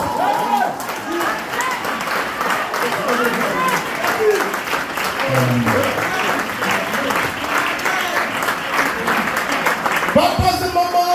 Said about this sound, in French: Acclamons le Seigneur des Seigneurs, le roi des rois, le Dieu des dieux, Jésus-Christ.